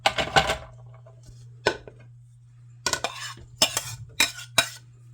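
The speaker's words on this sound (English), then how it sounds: "Give it a nice stir." A spoon stirs chicken tortilla soup with shredded chicken in a crockpot, giving scattered clinks and scrapes against the pot in short bursts. A low steady hum sits underneath, and no voices are heard.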